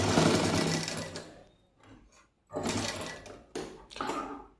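Sewing machine stitching the top section of a garment together, running in bursts: a long loud whir, a short pause, then two more close, steady runs, with no talk.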